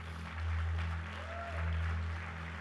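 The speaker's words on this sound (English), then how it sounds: "Would you give her a round of applause, please?" A church congregation in an auditorium applauds softly, a faint diffuse patter of clapping half buried under a strong steady low electrical hum that swells twice.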